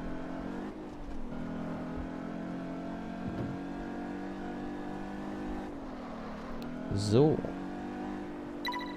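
An Audi TT RS engine in Test Drive Unlimited 2 holds a steady mid-pitched drone while driving, with a shift and a quick rev rise near the end, heard under a commentator's voice.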